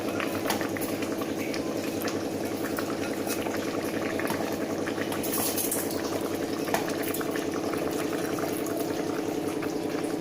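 Jeeraga samba rice simmering on low heat in biryani gravy, a steady bubbling boil with faint clinks of a ladle, continuous and close.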